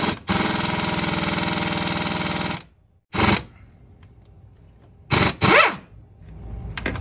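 A power tool works a rusted bolt loose on a Dodge Grand Caravan during a heater repair: one long loud buzzing run, then several short bursts separated by quiet gaps, close up with no talking.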